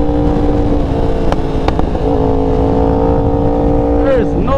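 Yamaha R1 motorcycle with 2-step launch control, a loud steady high-revving engine drone held close with sharp popping cracks, then pitch swooping near the end.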